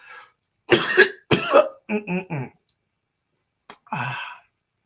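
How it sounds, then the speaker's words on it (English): A person coughs several times in harsh bursts, close to the microphone, with a couple of short vocal sounds and pauses between them. "He got to get a cough drop because he's coughing up a lung over here"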